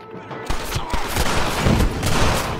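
Gunfire in Red Dead Redemption: a dense burst of shots with a rumbling low end, starting after a quiet half second and running on steadily at a fairly loud level.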